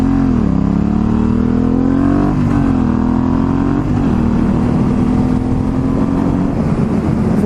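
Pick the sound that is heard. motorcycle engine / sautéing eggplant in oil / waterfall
motorcycle engine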